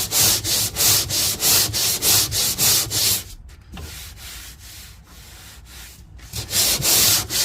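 A long sanding block fitted with a 40 grit disc is worked back and forth across a flat body panel, a close, loud run of rhythmic rasping strokes that pauses briefly mid-way before the strokes resume.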